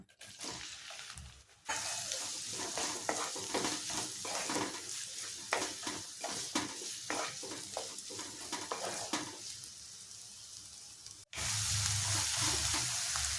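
Chopped onions sizzle and fry in a pan for a vegetable omelette, with a steady loud crackle and repeated stirring scrapes, broken by a brief pause partway through.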